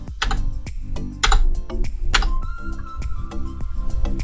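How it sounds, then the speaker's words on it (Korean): Keys on a computer keyboard are tapped to type a Ctrl+F search in a PDF, giving a close, crisp run of irregular clicks and taps with short pauses between bursts. "컨트롤 F를 눌러서 평행이라고 쳐보겠습니다."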